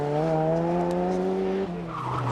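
A rally car spins on a loop during the 1993 Stonethrowers Rally. Its engine holds a loud, steady, whining note, tyres skid throughout, and the pitch dips briefly near the end.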